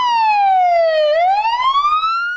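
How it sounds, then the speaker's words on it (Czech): A fire siren sounds during a volunteer firefighter drill at a cultural house, a loud close wail that sweeps down and then climbs back up, filling the whole short stretch with no other sound. "Požární poplach."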